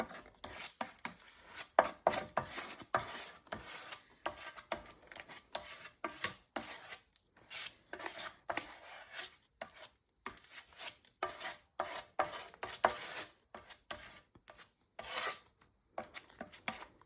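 A tool scrapes and rubs through thick paint as ivory is worked into a not-yet-dry layer, giving close, irregular scratchy strokes with short pauses between them.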